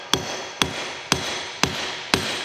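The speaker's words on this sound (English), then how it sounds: "hammering that back in a little bit more" A hammer drives a seal kit into a hydraulic cylinder on a John Deere 550H dozer, five sharp metallic strikes at an even pace, each ringing briefly before the next.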